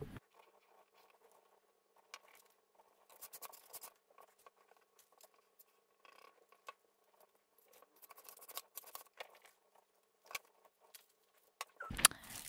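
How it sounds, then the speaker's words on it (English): Scissors snip a thin length of paper for a junk journal accordion pocket, giving quiet, close, irregular short cuts and rustles with gaps between. "I'm just going to cut another thin length of paper in the same shade"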